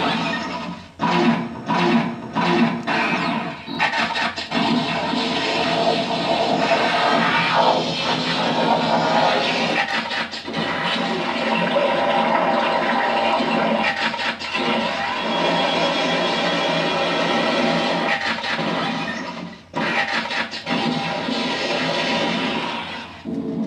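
A Ghostbusters proton pack replica fires its sound effects: a loud, continuous harsh electronic roar and crackle with sputtering bursts, running close and steady for over twenty seconds.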